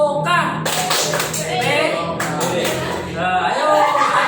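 A primary school class in a first-grade physical education lesson claps a rhythmic group clapping pattern, with children's voices chanting and talking over the steady patter of many hands.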